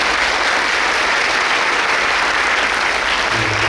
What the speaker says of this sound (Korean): 참석하신 외빈을 위해서 다시 한번 큰 박수 부탁드립니다